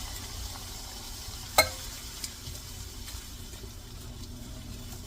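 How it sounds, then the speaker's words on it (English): Canned diced tomatoes cook in a pan with a soft, low sizzle and a single sharp clank of a utensil against the pan. A few faint taps follow, and no one speaks. "we're going to add the can of diced tomatoes"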